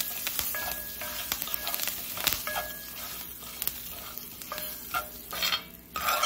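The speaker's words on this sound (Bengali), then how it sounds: "এটা কিন্তু ভাজা ছোলার ডালই, খালি আমি একটু নেড়ে নিচ্ছি" Fried chana dal stirred in a pan with salt and turmeric, a spatula scraping and clattering against the metal in irregular strokes over a soft sizzle, close and fairly loud.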